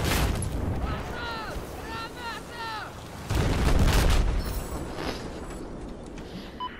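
In Battlefield 4, a rocket slams into a tank with a sudden heavy blast partway through, and a rumbling roar trails after it. Before the impact, a few short whistling tones sound over a noisy battlefield background.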